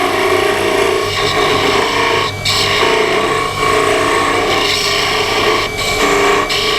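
Maple and walnut are parted off on a spinning wood lathe, giving a steady rasping, scraping tool-on-wood hiss with a low motor hum and a few brief dips, close and loud with no speech.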